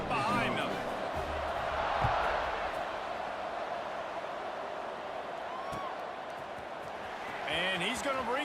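A college football stadium crowd roars steadily before kickoff, a broad, distant wash of cheering with a commentator talking over it.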